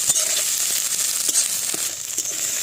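Ghetkol leaves being dry-fried in a pan, a steady close sizzle with faint crackles and occasional stirring scrapes throughout, no voices.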